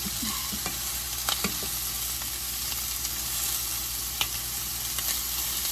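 Meatballs sizzle steadily in a hot pan, a constant crackling hiss with occasional sharper pops, heard close and without voices.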